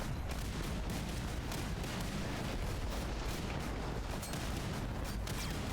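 A 40mm automatic grenade launcher turret fires in a video game, a dense, steady barrage of overlapping booms and thumps that continues without pause at a moderate, slightly distant level.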